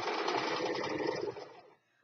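Sewing machine stitching lace pillow fabric in a short, quiet, rapid mechanical whir lasting about a second and a half before stopping.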